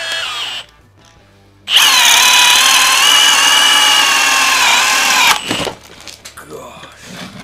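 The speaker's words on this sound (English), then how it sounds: "First test is gonna be with the Milwaukee Fuel drill." After a brief pause, a Milwaukee Fuel cordless drill whirs loudly and steadily for several seconds while boring into a block of wood, then winds down and stops.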